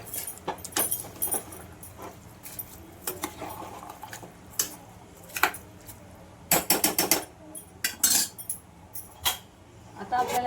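A metal spoon stirs rice in a cooking pot for chicken pulao, giving scattered scraping clinks and knocks in irregular bursts, close and fairly loud against a quiet kitchen background.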